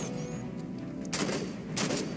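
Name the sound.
gunfire in the video game Halo 5 Guardians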